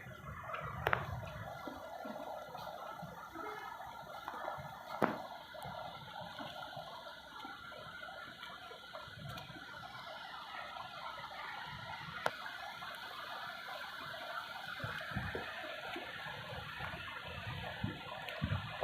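Rainwater rushes fast down from the mountains at Chakki bridge, a steady broadband roar of fast-flowing floodwater with occasional sharper knocks, heard without talk.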